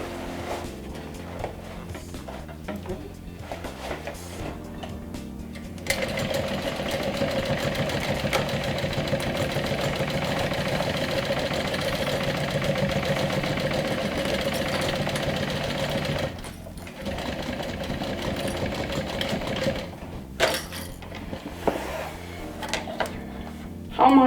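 A sewing machine runs steadily while topstitching over the seam allowance of a small Loly backpack, a close, continuous mechanical whir with brief pauses and restarts near the start and end.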